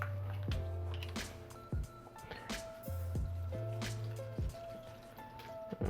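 Water pours into a blender in short gushes, splashing and trickling, with hollow drips and knocks against the container, close and fairly quiet.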